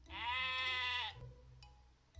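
A sheep in the video game Heartbaked gives one loud, quavering bleat lasting about a second, then a quiet stretch with faint low background hum.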